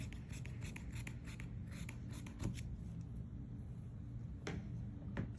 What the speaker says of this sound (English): So just cut around those triangles.